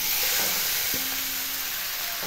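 Local chicken meat sizzles hard in a hot wok after going in on browned oil, a loud continuous hiss and crackle with a brief scrape of stirring, and no voices.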